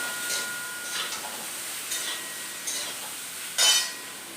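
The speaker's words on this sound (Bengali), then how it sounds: "এবার এটাকে নেড়ে নেব" Green plantain curry is stirred in a pan, with soft scraping swishes of a spatula repeating every second or so over a faint sizzle, ending with a sharper metallic scrape. Nearby and quiet, with no voices.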